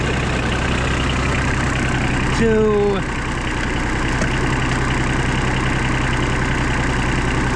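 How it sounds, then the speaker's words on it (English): A tractor engine idles with a steady, loud low rumble while its hydraulics are worked, a brief rising whine cutting in partway through, and someone talks over it. "I'm having to use the tractor hydraulics"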